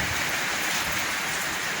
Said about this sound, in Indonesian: Sekarang di tempat kami lagi hujan lebat.